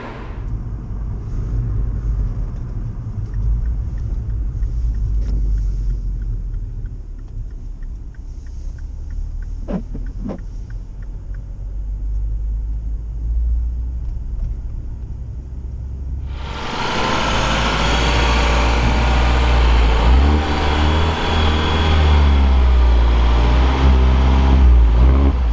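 A car moving through snow, heard first as a low rumble with faint knocks, then a loud surge of engine and tire noise that swells and continues strongly to the end.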